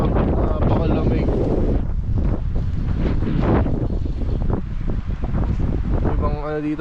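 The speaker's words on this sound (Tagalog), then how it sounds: "grabe yung lakas ng hangin" Strong early-morning wind roars across a tent campsite, buffeting the microphone in heavy, rumbling gusts that barely let up, with a voice heard faintly through the blustering.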